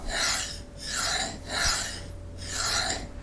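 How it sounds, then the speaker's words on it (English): Kitchen knife drawn repeatedly along a Green Elephant ceramic sharpening rod, four long even rasping strokes in a steady rhythm, close and clear with no talking. "I will work the ceramic rod pretty much like a whetstone"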